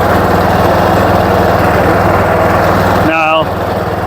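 A John Deere 210 garden tractor engine drones loud and steady up close as it rolls over a bumpy yard, a continuous rough mechanical hum with a brief pitched whine near the end.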